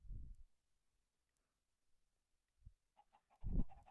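A baby chicken in Minecraft gives short, soft clucks in three separate bursts, widely spaced across an otherwise near-silent stretch.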